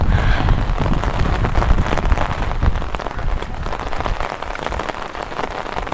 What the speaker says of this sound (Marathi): वरून खूप म्हणजे खूप पाऊस पडतोय.